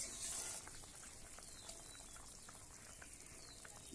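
Thin small-fish curry gravy bubbling in a pot, a steady soft hiss with faint scattered pops, fairly quiet and close, no voices.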